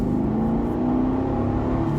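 A Chevrolet SS sedan's deep naturally aspirated V8 engine drones steadily with a rising harmonic whine, heard close and loud throughout, with no voices.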